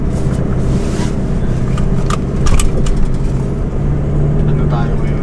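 A 4x4 running at 2,000 RPM at about 30 km/h on a mountain trail, a steady loud engine drone with heavy wind buffeting and road rumble throughout, close to the microphone.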